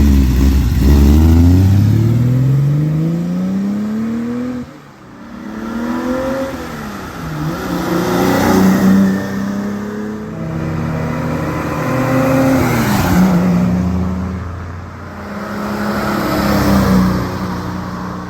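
A 1970 Ferrari 365 GT 2+2 makes repeated flybys on a road test. Its engine revs rise and fall as it sweeps past, loud and close, with pitch swinging on each pass and no talk.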